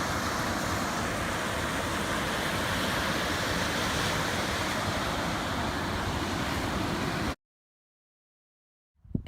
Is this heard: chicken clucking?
no